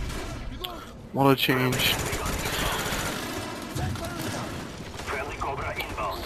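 Light machine gun fire in Call of Duty: Black Ops, heard as a loud sustained burst of rapid shots following a few sharp tones, with someone talking over the game sounds.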